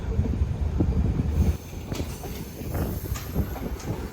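A passenger train of about ten coaches runs along the coast in Sri Lanka, its steady rumble and rail clatter filling the clip close by, easing slightly partway through with faint squeals above.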